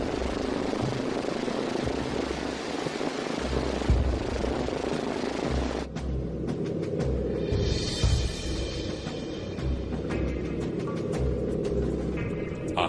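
American bomber aircraft in flight, a steady, loud propeller-engine drone that fills the whole stretch, with a slight shift in texture partway through.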